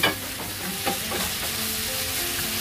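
Tomatoes sauté in a hot pan for ginisang monggo with a constant sizzle, while a utensil scrapes and stirs through them in several soft strokes.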